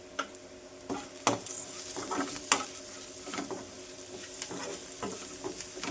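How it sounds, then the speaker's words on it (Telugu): Spoon stirring jaggery into a simmering taro root tamarind stew in an Andhra-style home kitchen, with a steady low sizzle and intermittent scraping and clinking strokes against the pot, close and moderately quiet. "కొంచెం బెల్లం ఒక్కసారి కలుపుకుందామండి"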